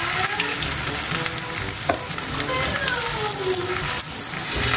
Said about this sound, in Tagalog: Habang ako po ay nagpiprito pa po ng binalot po natin na malagkit